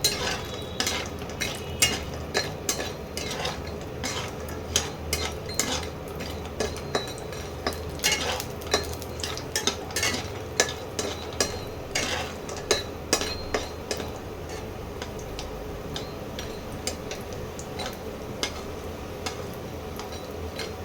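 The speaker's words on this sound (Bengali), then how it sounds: "বড়িগুলো একটু সামান্য লাল লাল করে ভেজে নেব" Lentil dumplings (bori) fry in a pan with a soft, constant sizzle, while a utensil clicks and taps against the metal in an irregular rhythm close by.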